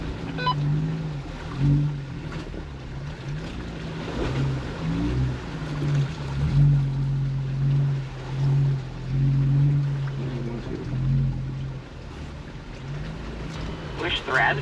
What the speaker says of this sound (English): I'm literally in M2 and just letting it idle through this, and it's idling right over rocks and everything.